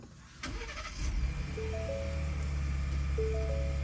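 A Ford F-150 engine cranks and catches, then settles into a steady, close idle hum that fills the rest of the moment, with faint higher tones riding over the rumble.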